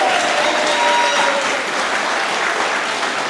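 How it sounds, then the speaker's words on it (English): Wedding guests break into loud, dense applause at the speeches and ceremony, a close, sustained burst of many hands clapping with faint cheering inside it. "Round of applause."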